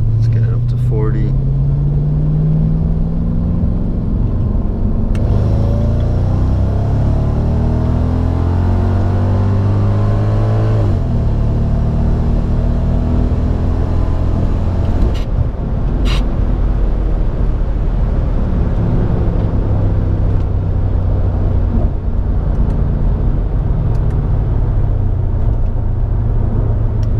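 A car with an M113K supercharger accelerates hard from second gear from around 40 mph, its engine rising in pitch through repeated revving sweeps with a loud, steady rumble, close by and continuous for the whole stretch.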